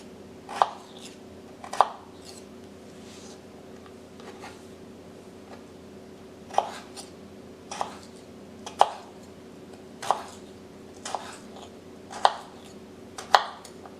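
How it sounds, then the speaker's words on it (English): A knife chops through potatoes on a cutting board, dicing them for a Spanish omelet: about a dozen sharp, separate knocks at uneven intervals, close and clear over a quiet background. "Cut across to create diced potatoes."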